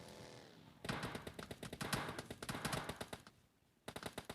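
Rapid automatic gunfire in the mobile battle royale game PUBG Mobile, sharp bursts of shots crackling loudly in quick rhythm with a short lull before another volley, no talking.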